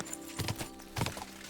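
A horse's hooves in the Kingdom Come Deliverance II video game, ridden off-road through woods: two brief clusters of soft clip-clop thuds on soft ground, fairly close, with no talk.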